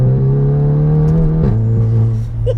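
An air-suspension bagged MK7 Golf GTI fitted with a swapped Golf R engine pulls hard in second gear on twisty roads, its loud droning engine note climbing steadily before dipping at a gear change around halfway, heard from inside the car.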